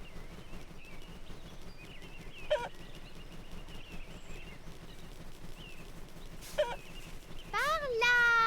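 Chickens cluck and squawk in short bursts within a Peppa Pig video game, heard over soft background game sounds, with a rising cartoonish call near the end.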